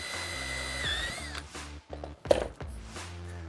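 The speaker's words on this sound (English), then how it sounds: "drill top and bottom on all my bars" A power drill bores through a transparent plastic burglar-guard bar into scrap timber, a whining motor that pitches up and down in short bursts with brief pauses and a thunk as the bit breaks through.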